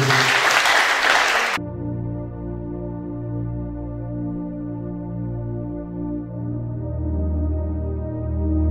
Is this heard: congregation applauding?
yes